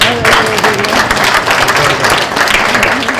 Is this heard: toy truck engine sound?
no